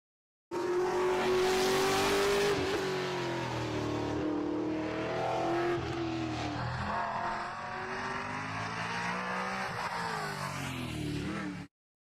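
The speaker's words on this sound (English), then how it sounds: "Brian Harvey grabs a downshift for the slow section, hanging a hard left into the infield." Super late model race car at a mountain road course, engine loud and close as it downshifts with falling and rising revs, tire noise and a hard left turn into the infield.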